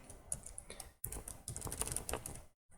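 Someone types Python code on a computer keyboard, making quick close clicking keystrokes in irregular bursts with a short pause near the end. No talking is heard.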